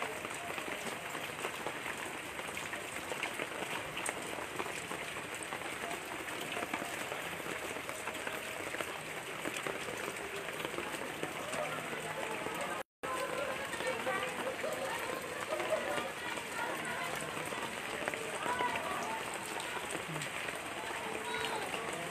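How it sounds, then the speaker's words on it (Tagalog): Heavy rain pouring steadily on a rural house under renovation, a dense continuous hiss and patter that fills the whole clip at an even level, with a brief dropout near the middle. "Yan, lakas ng ulan."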